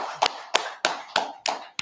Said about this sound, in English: Clap it up, man. Clap it up.